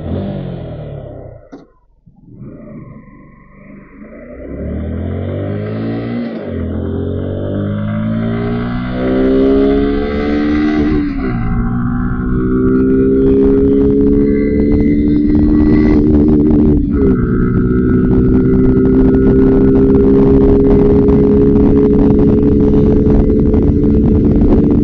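A 2024 Suzuki Gixxer SF 150 motorcycle accelerates hard from standstill toward 100, its engine note climbing steeply through several gears with brief dips at each shift, loud and close throughout.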